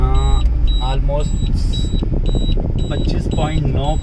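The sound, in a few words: Maruti Suzuki Ritz CNG low-fuel indicator alarm beeping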